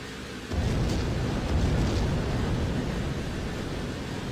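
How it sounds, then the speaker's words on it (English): A huge, sustained explosion rumble in an old naval video game set on water, starting abruptly and roaring as a broad, loud wash that slowly tapers without fading out. "Oh, explosions are huge."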